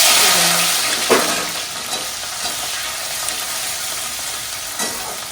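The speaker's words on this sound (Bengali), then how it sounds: "কড়াই অলিভ অয়েল দিয়ে দিয়েছি, এইবার বেরেস্তাগুলো" Onions sizzle steadily in hot olive oil in a kadai as they fry into beresta, a dense, even crackle with a few soft stirring knocks close by.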